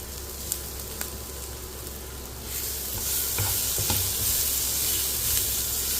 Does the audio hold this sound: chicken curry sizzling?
yes